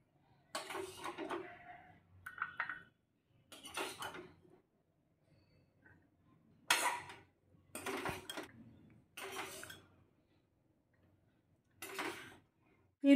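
Papaya pieces dropped one by one into a bowl with green, red and yellow food colouring, giving several separate clinks and clatters against the dish with quiet pauses between, close and fairly clear.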